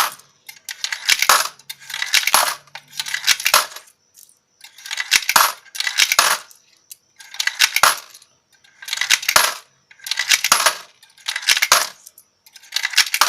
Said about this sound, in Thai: เหรียญ2บาทจำนวน 20เหรียญรัชการที่ 9รัชการที่ 10 เหรียญหนาเหรียญบางนะครับแล้วก็ หยอดลงไป ก็จะนับเหมือนเดิมนะครับ